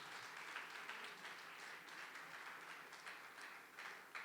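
A church congregation claps for the Lord in lively, fairly quiet applause, a dense patter of many hands with small swells that continues evenly throughout.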